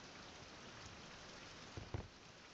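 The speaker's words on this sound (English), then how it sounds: "And we have rain." Steady rain falls outdoors in a survival game setting, a continuous soft hiss of drops on surfaces with a couple of faint low thumps near the end and no speech.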